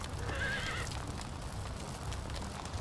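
A horse in the video game Lucah lets out a high whinny while hooves clip-clop steadily underneath, the neigh standing out early in the short passage.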